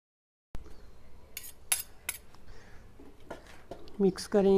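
A spoon stirs biryani masala into chicken and potatoes in a pot, heard as soft scraping with intermittent metallic clinks and taps, close and fairly quiet, starting after a brief silence.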